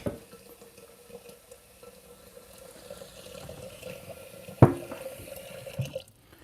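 Faint trickle and splash of water rinsing homemade butter in a bowl, soft and close, with one sharp knock partway through before the flow stops.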